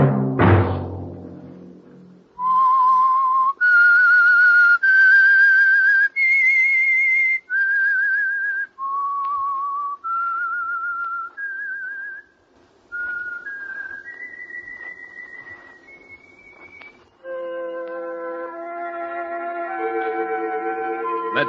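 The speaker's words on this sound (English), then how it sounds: "Let that whistle be your signal for the Whistler, each Wednesday night at the same time." A lone whistler carries the theme signal of The Whistler radio show: a slow, clear, eerie melody of sustained notes stepping up and down, ending on a fuller orchestral chord.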